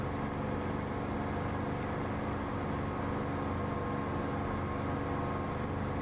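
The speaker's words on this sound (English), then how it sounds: "I like the sound of the engine with the canopy open though." A fighter aircraft's engine in a combat flight-sim video game, heard with the canopy open: a loud, steady, close droning roar with a humming tonal core, continuous for the whole stretch with no talk.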